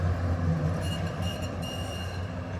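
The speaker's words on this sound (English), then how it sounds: "Oh, look at that, the tram." A tram passes along a city street in Kraków, a steady loud rumble of wheels on rails with a faint high squeal, heard close with no talking.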